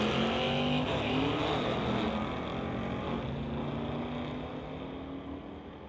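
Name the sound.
two 1969 Dodge Darts drag racing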